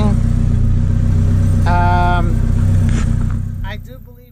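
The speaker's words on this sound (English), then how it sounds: "Idling." A Mitsubishi Galant VR-4 sits in gear with no clutch and a broken transmission, its engine idling with a steady, close rumble while someone talks over it briefly before the sound fades.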